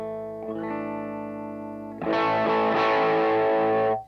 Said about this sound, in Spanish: la distorsión empieza a crujir y eso está bueno en un pedal